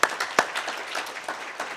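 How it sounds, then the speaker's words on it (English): A conference audience at a mental health at work keynote breaks into applause, a dense patter of claps with a few sharper hits near the start, moderately loud and steady through the moment. "I would give her a round of applause"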